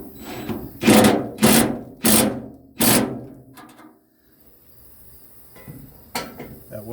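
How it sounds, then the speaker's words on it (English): A wrench tightening a bolt on attachment brackets for a lawn trailer, four rhythmic ratcheting scrapes close and loud, then a pause and a few quieter clicks, no talking. "Take our wrench, put it on the other side, and we're just going to tighten it up."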